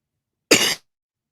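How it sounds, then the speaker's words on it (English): A single short, sharp cough from a nearby man, one burst lasting about a quarter second in otherwise silent surroundings. "I've had a cough since yesterday"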